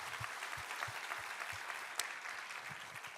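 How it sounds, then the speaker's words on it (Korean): A congregation in a Korean church Sunday service claps together, a dense sustained wash of applause with faint low rhythmic thumps underneath and no speech. "우리 하나님께 감사와 영광의 박수 올려드리겠습니다"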